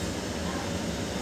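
A Juki single-needle sewing machine stitching through four folded layers of cloth gives a steady, close mechanical whir with a faint rhythmic chatter underneath.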